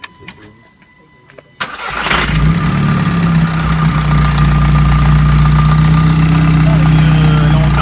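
A car engine cranks and fires into life with a sharp burst, then settles into a loud, steady rumbling idle close by, with faint low talk before the start.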